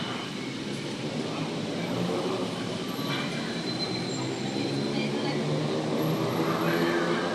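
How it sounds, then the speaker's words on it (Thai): A Bangkok BTS Skytrain rolls past on its elevated track near Siam Paragon with broadband rumbling and faint wheel squeals, steady throughout, amid outdoor city background noise. "มีรถไฟฟ้าวิ่งด้วย"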